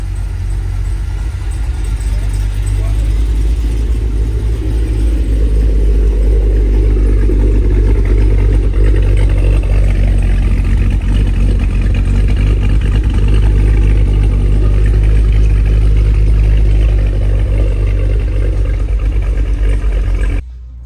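Cammed, supercharged 2023 Cadillac Escalade V V8 running loud and close for about twenty seconds, a heavy rumbling engine note that swells and revs before cutting off abruptly at the end.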